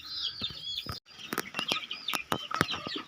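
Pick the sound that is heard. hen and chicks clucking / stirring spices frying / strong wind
hen and chicks clucking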